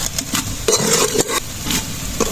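Metal scraping and clanking of a spoon against pots as meat is stirred and moved into a pressure cooker, with a soft sizzle beneath, close and busy.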